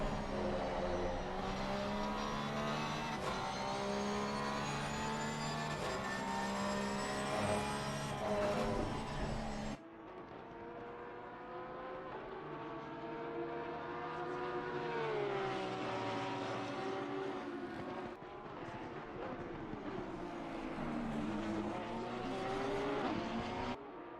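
Lamborghini race car engine in a racing game at Laguna Seca, a loud steady high-pitched roar that rises and falls with gear changes and throttle through corners, with no talking.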